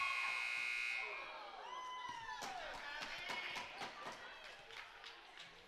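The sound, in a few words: basketball game buzzer ending the quarter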